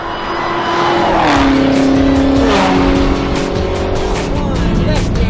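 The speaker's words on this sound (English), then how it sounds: "Braking, big squeeze on those brakes, maintain that brake pressure." A Dodge Charger Hellcat roars close by at high engine load on a racetrack, with tire squeal and shifting engine pitch as it brakes hard, loud and continuous.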